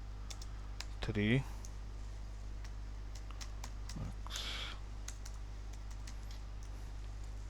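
Light typing on a computer keyboard during a Docker lecture, with scattered faint key clicks over a steady electrical hum while someone speaks briefly.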